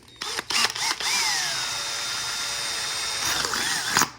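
A power drill bores holes in a penny can alcohol stove: a few short bursts, then a sustained whining run whose pitch bends as the bit bites, close and loud.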